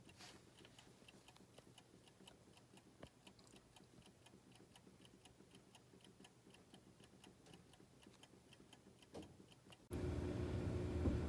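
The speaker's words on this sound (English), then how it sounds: "that ticking in the background is a baby Ben" A Westclox Baby Ben wind-up alarm clock ticks steadily and faintly in the background, a regular quiet tick-tock for about ten seconds before a loud running machine noise suddenly takes over.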